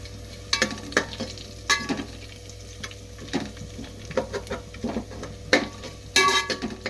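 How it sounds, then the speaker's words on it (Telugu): Two dried red chillies frying in a pan, a light crackling sizzle broken by sharp clinks and scrapes of a spoon against the metal, close and uneven, with no talking. "రెండు రొట్టె మిరపకాయలు అయితే వేస్తున్నాను"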